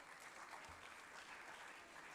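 Loud, steady applause from an audience at a National Sports Day 2025 awards ceremony in Odisha, continuous dense clapping throughout with no speech.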